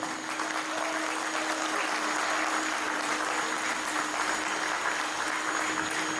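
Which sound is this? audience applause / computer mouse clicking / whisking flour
audience applause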